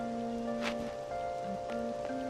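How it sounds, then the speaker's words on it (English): Steady soft rain hiss from the video game Persona 5 Royal runs continuously beneath sustained tonal background music, with a few faint splashy accents. "Just had to rain."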